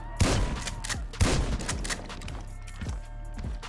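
Shotgun blasts in GTA 5 during a bank robbery: two loud, close booming shots about a second apart, then a softer third, each with a rumbling tail over game background noise.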